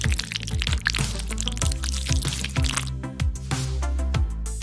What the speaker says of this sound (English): just pour in some cream